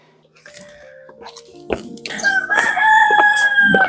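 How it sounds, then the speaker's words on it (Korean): A rooster crows at the chicken coop of a rural country house, one long, loud call building in the second half, with scattered clucks and small knocks before it. "닭을 키울 수 있는 닭장이 있었습니다."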